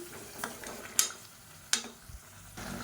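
A spoon stirring thick masala gravy inside a pressure cooker gives a few soft scrapes and sharp clinks against the metal, quiet and close, with no talking.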